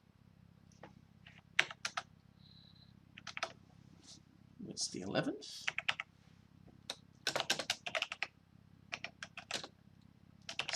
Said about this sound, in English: Still getting used to this keyboard.